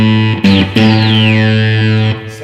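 Sustained distorted guitar tone from a harmonic antagonizer effects pedal, with a sweeping, wah-like envelope-filtered quality, a few notes changing and sliding, loud and close with no voices.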